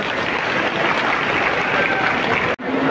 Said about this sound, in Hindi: अरे भाई ताली कमजोर है